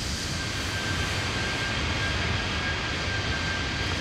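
Steady, broad engine roar of an A320 airliner in flight in Microsoft Flight Simulator 2020, an even unbroken drone with no speech.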